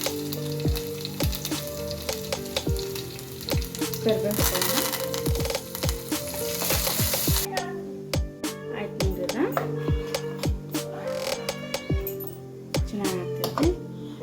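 Mustard seeds, cumin and garlic sizzle in hot oil for sambar, a steady frying crackle with scattered pops, plus clear pitched squeals and a cat meowing over it.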